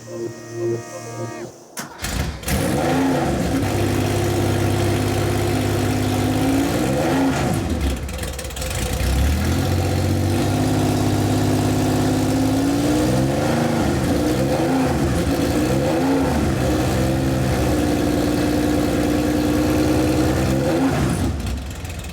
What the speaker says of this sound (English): we couldn't leave without having them start it up for us